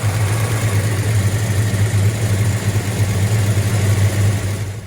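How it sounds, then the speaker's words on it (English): A 1966 Chevelle convertible engine idles at low RPM, giving off a steady, close, deep rumble with a rhythmic low throbbing vibration and no talk. "she's got that low RPM vibration."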